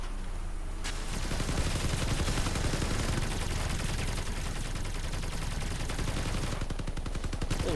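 Dense, continuous automatic gunfire and machine-gun bursts from vehicle combat in the video game Crossout, loud and sustained throughout with heavy low rumble.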